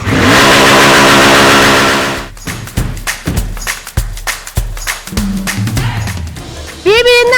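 A motorcycle engine revs loudly and close for a couple of seconds at a hobby festival, then cuts off, followed by people talking amid background noise.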